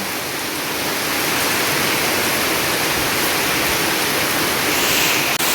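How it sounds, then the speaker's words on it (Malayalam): Rainwater rushes along in heavy rain, a loud, dense, steady roar of flowing water and downpour that holds unbroken throughout, close and without pauses. "പിന്നെ വെള്ളം ഒഴുകുന്നേ നോക്കിക്കേ"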